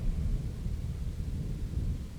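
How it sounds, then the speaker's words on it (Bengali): Deep, continuous thunder rumbles through a stormy night in a suspense-horror audio drama, a loud, steady low roll with no voices over it. "সঙ্গে ঘন ঘন মেঘের গর্জন ও বিদ্যুতের ঝলকানি।"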